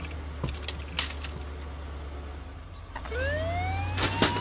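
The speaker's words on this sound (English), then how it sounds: "what's up with the ambulance?" An ambulance siren in an animated cartoon starts partway through and wails upward over a low engine rumble, loud and close, after a few brief knocks and clatters.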